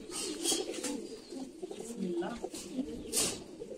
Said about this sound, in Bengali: এ হচ্ছে একটা নর কবুতর, মোস্ট সিনিয়র কবুতর আমার মুসাল্লমের ভিতরে